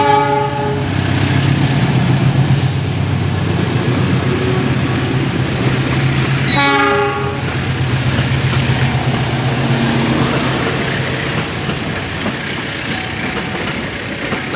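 A freshly serviced, clean diesel locomotive rolls past on an Indonesian railway near a depot, its horn sounding in sustained blasts over a steady, loud rumble of engine and wheels on track, with clicking rail joints as the train goes by.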